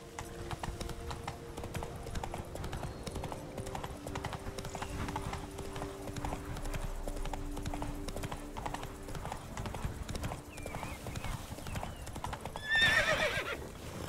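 Roach, the horse in The Witcher 3, trots with a steady clip-clop of hooves through the whole stretch, ending in a loud whinny near the close, under faint talk.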